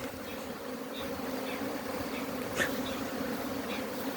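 Honey bees carrying pollen buzz around nucleus hives in spring, a dense, steady hum from many insects nearby, with an occasional single bee zipping closer.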